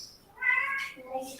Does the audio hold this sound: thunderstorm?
no